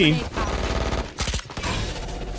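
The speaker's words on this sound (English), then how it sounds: "Got a swarm grenade down on CT." Swarm grenade from Valorant bursting in a rapid crackle of small detonations during a tournament match, dense and close with a sharp flurry near the middle, backed by steady game noise and a commentator's voice.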